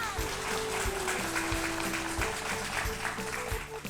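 Audience applause on a children's educational quiz show, a steady wash of clapping lasting several seconds with music playing underneath.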